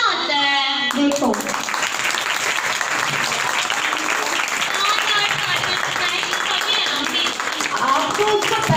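An audience at a Christmas puppet show breaks into loud, steady applause that goes on for several seconds, with voices briefly heard over the start.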